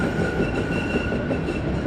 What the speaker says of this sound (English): but we're going to get the tram.